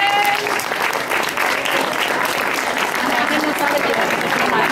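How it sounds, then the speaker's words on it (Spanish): A large audience at an International Autism Day event in Pamplona gives a loud, sustained round of applause, dense continuous clapping that holds steady for several seconds with scattered voices beneath. "vamos a darle entre todos un fuerte aplauso a Carmen."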